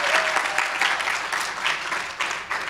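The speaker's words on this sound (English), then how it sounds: "You can clap." Sustained audience applause at a NASA Women in Data event, steady clapping from a crowd filling the whole stretch at even loudness with no talk over it.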